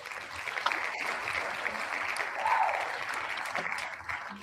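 Audience clapping to open a live show, a steady, soft, faintly distant patter of many hands that swells briefly midway and holds without pause, with barely any voice.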